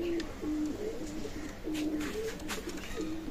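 Pakistani teddy pigeons coo in a repeated low rolling call, three phrases in a row, close by over a steady background hum.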